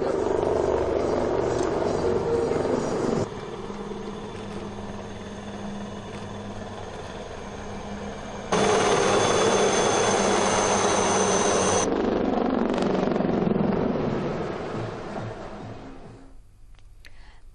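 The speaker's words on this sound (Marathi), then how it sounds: "सारंग हेलिकॉप्टरच्या प्रात्यक्षिकांनी उपस्थितांचं लक्ष वेधून घेतलं" Sarang helicopter display flight at an event, with a loud, steady rotor and engine roar that shifts in pitch as the aircraft passes, then fades toward the end.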